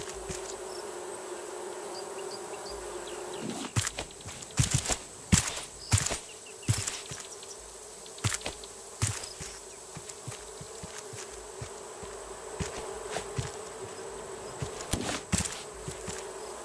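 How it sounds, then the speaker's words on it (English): Bees in the survival video game Raft give a steady, thin buzzing drone, broken by sharp clicks and footstep-like taps that come in irregular bursts from about a quarter of the way in. "I think that's basically the bees."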